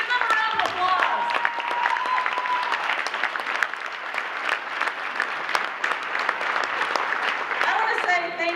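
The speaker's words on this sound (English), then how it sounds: "Give them a round of applause." Audience applause and cheering for military veterans at a marketing bootcamp talk, sustained clapping with scattered whoops and voices mixed in throughout.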